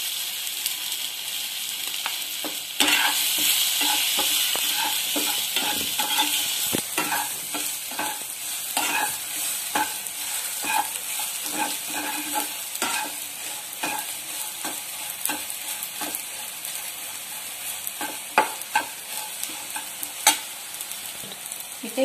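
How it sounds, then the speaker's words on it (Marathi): Soaked sabudana pearls being sautéed in a pan for a sweet dish, with a continuous close sizzle and frequent scraping stir strokes throughout, no voices. "त्यातील मी इथे 2 चमचे शाबू त्याच्यामध्ये परतून घेणार आहे"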